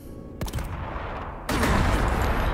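Missiles launch in the video game Warhammer 40,000 Sanctus Reach, with a sharp crack followed by a sustained roaring rush, then a second louder, denser blast that keeps rumbling to the end.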